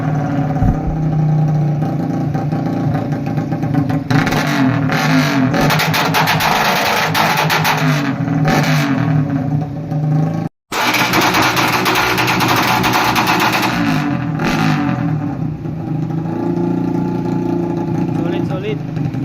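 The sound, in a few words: loud motorcycle exhaust pipe revving after tuning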